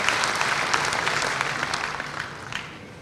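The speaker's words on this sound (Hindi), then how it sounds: "मंच के लिए जरा सबके लिए ताली बजा दीजिए एक बार।" A crowd claps steadily and close by for about three seconds at a public event in Indore marking a Narmada water supply scheme, with no voices over it.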